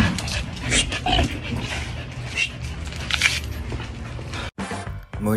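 Several dogs whimper and yip excitedly at close range in a noisy, continuous jumble of whines and short cries, with faint background voices.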